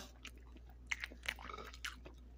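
Someone eats breaded, fried salmon close to the mic, with soft, wet chewing and a few crisp bites and crunches in an irregular rhythm, quiet against a low background hum, and no speech.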